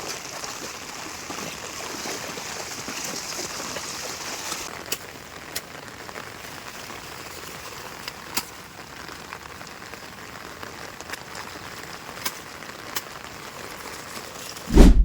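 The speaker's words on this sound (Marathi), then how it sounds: "बघा पाऊस किती आहे बघा आपल्याकडे कोकणामध्ये" Heavy monsoon rain falls steadily over paddy fields in Konkan as a dense, even hiss, with a few sharper drips and taps scattered through it. A louder thump comes near the end.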